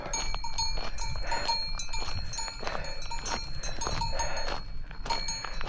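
Cowbells clank steadily from a cow and her calf, among other farm animals in an Alpine pasture near La Toussuire, close and continuous throughout.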